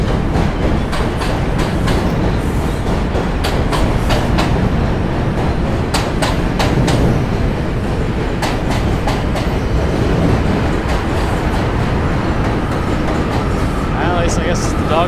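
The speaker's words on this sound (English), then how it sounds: "Train is coming though." A J, M or Z elevated subway train rumbles past close by over the Williamsburg Bridge in New York, continuous heavy roaring and rhythmic clickety-clack from the wheels on the track, while someone talks over the noise.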